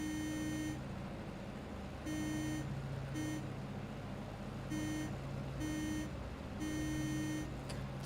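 Low engine RPM warning tone in a DC-3 flight simulator, a steady electronic beep repeating in pulses of uneven length over a constant engine drone.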